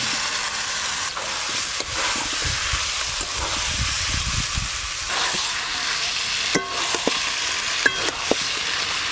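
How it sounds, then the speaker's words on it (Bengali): Potatoes that were fried earlier are being sautéed with spice masala in a pan for aloo dum. The steady sizzle and hiss continues throughout, broken by a few sharp scrapes and clinks of stirring. "এবার ভেজে রাখা আলুগুলো দিয়ে মশলা আর আলু একটু ভালো করে কষে নেব"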